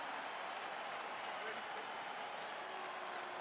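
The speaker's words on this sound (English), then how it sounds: "crowd getting excited as this fight gets underway" A stadium crowd in the fighting game EA Sports UFC 4 roars and applauds steadily, a dense, fairly quiet wash of cheering and clapping with faint voices over it.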